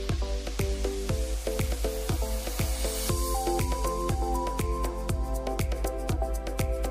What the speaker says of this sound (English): The machine is suitable for filling toothpaste, beauty cream, gel, ointment, essential oil,